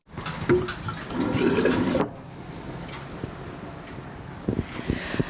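Drinking water from a city purification station pours into a container, a loud rushing splash for about two seconds, then quieter trickling with wind buffeting the microphone and a few knocks near the end.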